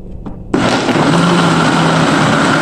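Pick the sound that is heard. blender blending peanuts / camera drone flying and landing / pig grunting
blender blending peanuts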